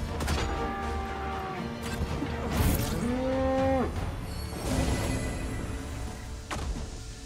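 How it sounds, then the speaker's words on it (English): A cow moos loudly in the fantasy game Dragon's Dogma 2, one drawn-out low call with a falling pitch bend, close up and standing clear over faint game ambience, with no talk. "I just got hit by a cow."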